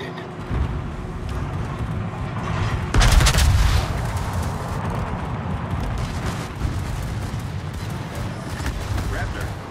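Gunfire aimed at an enemy warship in a Battlefield video game naval battle: one heavy, booming blast rises over a constant rumbling din, with voices speaking through it.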